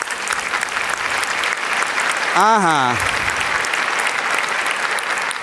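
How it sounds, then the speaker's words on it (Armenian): Audience members at a stand-up comedy show applaud in a dense, continuous clatter that holds at an even level throughout, while a man briefly calls out over it. "Եկեք, ծափահարենք ձեզ"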